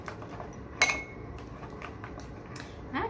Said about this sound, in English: I've got a spoon here. We'll mix that up.